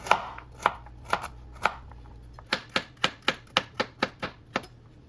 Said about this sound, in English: now I'm done chopping my veggies